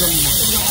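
Water splashing and running steadily as people wash their feet at the entrance gate of a Jagannath temple, a continuous close hiss with voices faintly underneath.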